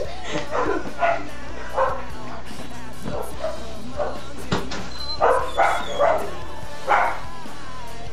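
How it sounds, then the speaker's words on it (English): Dogs bark repeatedly nearby in short, uneven bursts, some yips mixed in, over a constant background hum. "Every time I press the button to go, they start barking."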